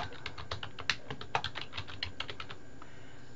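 Fingers tap a computer keyboard in a quiet room, a quick uneven run of light clicking keystrokes that trails off after a couple of seconds.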